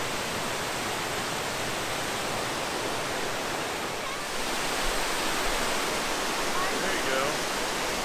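A big waterfall at Port Ludlow Falls roars as a steady, dense broadband rush that holds constant throughout, while a voice briefly speaks over it.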